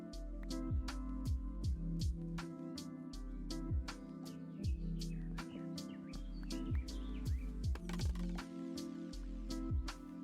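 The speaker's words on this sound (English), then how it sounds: "I also really enjoyed the bird sounds and the ocean sounds" Bird calls in a Minecraft Cobblemon world beside the beach, a steady series of bright repeated chirps and tweets in regular rhythm, clear and close with a soft tonal backdrop.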